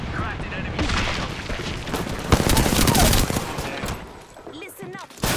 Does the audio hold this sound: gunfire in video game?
yes